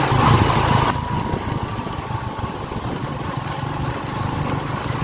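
A motorcycle ridden at speed, heard from the rider's helmet, gives a steady roar of engine and rushing wind noise that stays loud and continuous throughout, with no talk.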